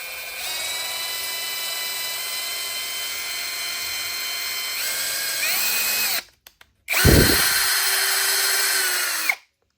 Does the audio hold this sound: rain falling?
no